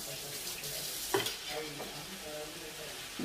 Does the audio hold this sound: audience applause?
no